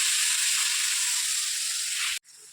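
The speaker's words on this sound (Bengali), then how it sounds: "এবার আলুটা ঢাকা দিয়ে দিয়ে ভাজবো কেননা সেদ্ধও হবে আর ভাজাও হবে" Potatoes frying in oil in a covered pan, a steady bright sizzle and hiss that holds for about two seconds, then abruptly drops to a quieter sizzle.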